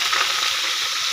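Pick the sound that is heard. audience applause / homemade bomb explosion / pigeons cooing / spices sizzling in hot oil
spices sizzling in hot oil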